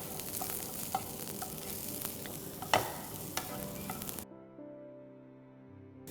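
Mushrooms and finely chopped vegetables are stirred in a hot pan, giving a steady sizzle broken by spatula scrapes and clicks for about four seconds before the sound drops to a quiet, even background tone.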